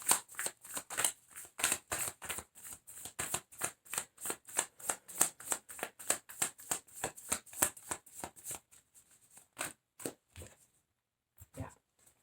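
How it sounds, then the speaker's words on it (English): Tarot cards shuffled and drawn by hand: a steady run of crisp riffling card flicks in quick rhythm, close and clear, slowing and thinning into a few separate snaps and slides near the end, with no talk over it. "I'm going to get another couple cards because I have something coming to me."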